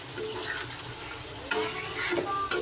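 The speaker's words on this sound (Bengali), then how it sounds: "এই যে মাছের মশলাটা কষানো হয়ে গেছে" Fish masala sautéing in a pan sizzles steadily while a spatula stirs and scrapes, with two sharp clanks against the pan.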